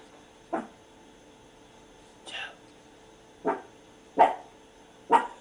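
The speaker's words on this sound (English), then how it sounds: "The dog's barking." A dog barks five times at irregular intervals, moderately close, with a faint steady background hum between barks.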